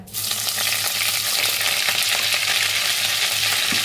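Butter and two bay leaves fry in oil in a pan, giving a dense, steady sizzle that starts abruptly and holds loud and close for a few seconds, with faint stirring scrapes underneath and no talk.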